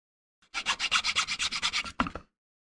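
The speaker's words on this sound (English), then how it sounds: "Now I'll probably take a file, hit it up a little bit." A hand file rasps back and forth across a wooden dice tower, a dozen or so quick, evenly spaced strokes, close and loud, ending in a slightly heavier final pass.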